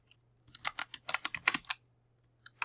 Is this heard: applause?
no